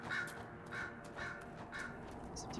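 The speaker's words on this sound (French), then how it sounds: "Ces petits corbeaux là." Crows caw in a steady rhythm in Dragon Age Inquisition, about five harsh calls evenly spaced over a quiet game ambience.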